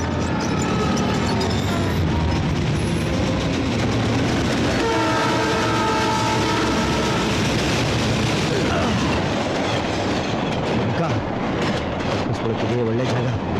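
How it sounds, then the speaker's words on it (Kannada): A passing train keeps up a loud, continuous roar with wheel clatter, and a sustained horn sounds for a few seconds in the middle before the rumble carries on. "ಏಯ್ ಟ್ರೈನ್ ಸೌಂಡ್ ಕೇಳ್ತಾ ಇದೆಯಲ್ವಾ?"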